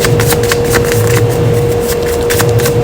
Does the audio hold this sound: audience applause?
no